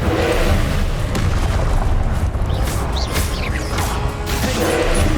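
The Incendio fire spell cast during combat in Hogwarts Legacy, a loud burst of fiery, crashing impact noise amid dense spell effects and battle clatter.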